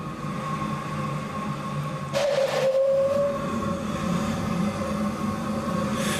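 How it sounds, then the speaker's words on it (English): Steam locomotive on the Borkum island light railway in Germany, a steady rumbling run with a sharp whistle-like blast and hissing burst midway, heard close and alone. "Elsewhere, it's full steam ahead. On Borkum's light railway,"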